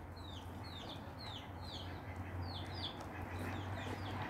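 Several ducks call repeatedly in quick, bright squawks, with a steady low hum underneath; the calls come in a loose rhythm at moderate distance.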